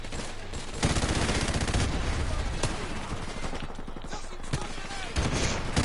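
Modern Warfare Remastered multiplayer gunfire crackles nonstop, with dense bursts and occasional sharper shots; a voice seems to be faintly present under the dense shooting.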